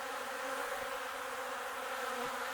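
Honeybees of a controlled-mated colony buzzing at the hive, a dense steady hum filling the air at moderate level, alone without voices.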